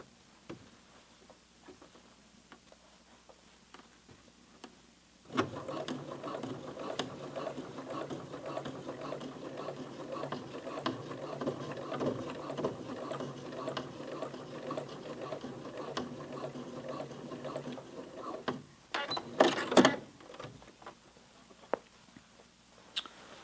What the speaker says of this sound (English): I want you to listen to the machine as it goes over it